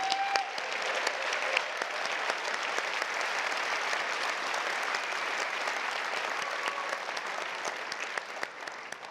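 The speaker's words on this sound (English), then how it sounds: "I want you to applaud somebody." A large audience at a business talk applauds steadily for several seconds, a sustained dense wash of clapping with a few sharper individual claps, moderately distant and without speech.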